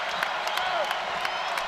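Dayton basketball fans in a sold-out arena raising a steady crowd roar with scattered clapping and whistles, heard at a distance under faint commentary.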